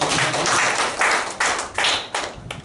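A church congregation applauding during a sermon, bursts of loud, crisp clapping that rise and fall in waves before tapering off.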